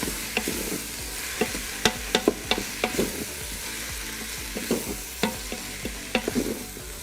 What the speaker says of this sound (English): I'm just gonna mix around